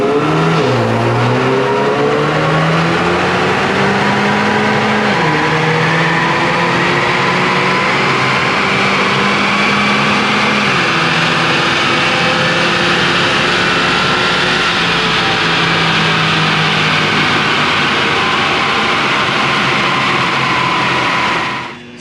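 Turbocharged Ford EcoBoost Mustang revving hard through a full dyno pull, loud and close, the engine climbing steadily through several gear changes and dropping off abruptly at the end, with no voices.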